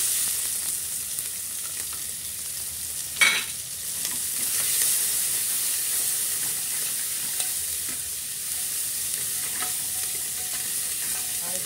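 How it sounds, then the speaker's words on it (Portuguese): Onion and garlic tossed into a pan with already-fried sausage, giving a continuous close hiss of frying with a sharp crackle burst as they hit the oil, then steady sizzling. "vou colocar aqui a cebola e o alho"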